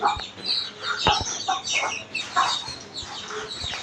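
A hen clucks repeatedly up close, soft irregular clucks over a faint chorus of chicks peeping in the background.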